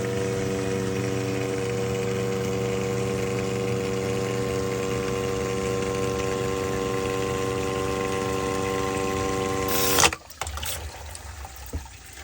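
A household sump pump in a sump pit, switched by a float, runs under test with a steady motor hum and layered whine. It cuts off abruptly near the end, leaving a brief, irregular watery gurgle.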